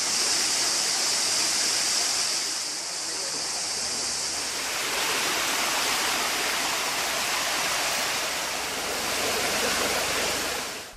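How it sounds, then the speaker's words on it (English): Muddy spring water pouring out of the ground near a water catchment in a reactivated landslide area in Ella, a steady, loud rushing and gushing wash that carries on without a break. "muddy spring water has emerged from underground"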